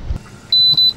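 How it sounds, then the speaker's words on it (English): A boat's AIS alarm going off, a thin high electronic tone in a few short pulses, loud and close, following a brief low thump. "I've just turned my AIS on so he knows that I'm here, and of course immediately the alarm goes off"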